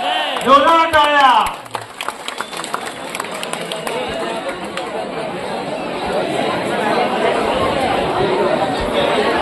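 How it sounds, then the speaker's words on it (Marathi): A crowd at a Dahi Handi practice camp organised by a Sai Bhajan cultural group bursts into sustained clapping and cheering after a voice over a loudspeaker, with the noisy applause building and holding steady to the end. "जोरदार टाळ्या"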